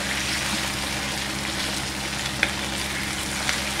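Chicken frying in a pan for masala pulao makes a steady, loud, broadband sizzle with a constant low hum beneath it and a couple of faint clicks, and no speech.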